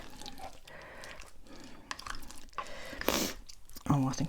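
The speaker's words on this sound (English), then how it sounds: "So I'm going to stir in my cherries." Glacé cherries are stirred into sticky homemade mincemeat in a bowl, giving soft wet squelching and thick gloopy stirring sounds at close range, with a few louder scrapes and someone talking near the end.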